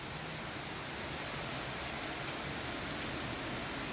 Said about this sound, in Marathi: जोराचा पाऊस आलाय खूप